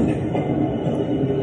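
Steady low rumble and rattle of a New York City subway train rolling along the tracks, continuous and fairly loud with a faint metallic hiss on top.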